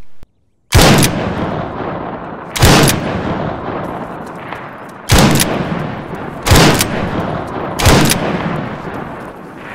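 Weapon fire in the Arma 3 military simulation game, during a ballistics demonstration of rounds penetrating concrete: five loud, sharp single shots spaced about two seconds apart, each followed by a long rumbling echo decay.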